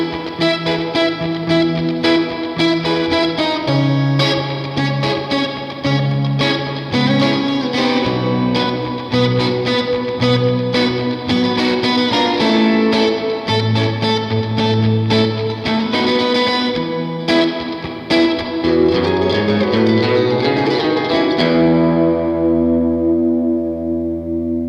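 Clean electric guitar tracks from a Tokai 70s lawsuit-era Strat, played in a doo-wop, proto-funk style: layered chords and bright picked lines with a chorus-like shimmer, steady and full for about twenty seconds before a final ringing chord fades out.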